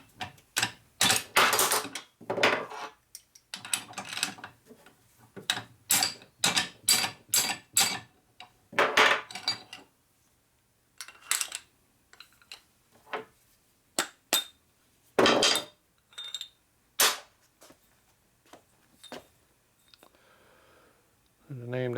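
A cast piston from a 1946 84ci stroker knucklehead motor is struck repeatedly with a hammer, sharp close metallic knocks in quick bursts with gaps between, some strikes ringing slightly.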